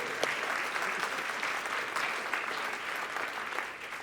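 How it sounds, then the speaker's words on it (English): An audience claps in a steady, dense round of applause at a UCLA symposium on martial arts and movement, sustained and even throughout with no voices standing out. "Let's give a round of applause."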